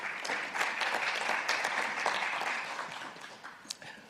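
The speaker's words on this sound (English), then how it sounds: "So please give her a big applause" Seminar audience applauding a speaker's introduction, a steady dense wash of many hands clapping at moderate level, tapering slightly near the end.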